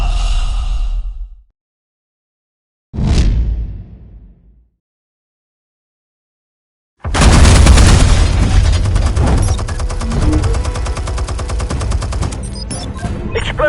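A burst of gunfire opens, then a single heavy blast in a Batman game episode, followed after silence by a long, loud barrage of gunfire and explosions rolling on to the end.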